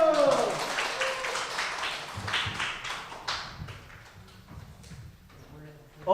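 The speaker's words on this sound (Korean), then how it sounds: "박수!" A middle-school church congregation bursts into clapping that is loudest at first, then thins into scattered taps and fades over several seconds.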